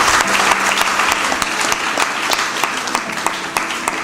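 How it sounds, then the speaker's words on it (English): An audience at a student debate claps steadily for several seconds, a dense, fairly loud burst of applause with no talking over it. "Clap for them once again."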